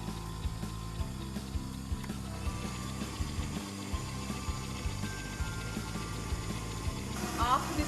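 A stand mixer whisks cream for an egg-free, no-bake tiramisu, giving a steady, fairly quiet mechanical whirr with a faint rhythmic rattle that runs without a break throughout.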